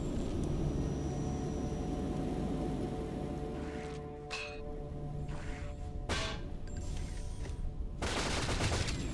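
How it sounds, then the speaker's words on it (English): Rapid gunfire in ShadowGrounds aimed at barrels, a steady stream of shots over a humming game background, with a few sharper impacts toward the end; moderately loud throughout. "I'm trying to shoot the barrels"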